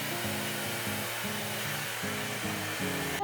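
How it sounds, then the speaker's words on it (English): A hair dryer with an attachment blows steadily and close while drying hair, a constant whooshing hum with a slightly pulsing rhythm and no talking. "Now I'm gonna remove the many hairs stuck to my fingers and blow dry my hair."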